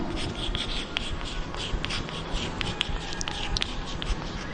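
Continuous scratchy strokes of writing on a board during a class 11 mathematics lecture, with short tapping accents between strokes and no voice.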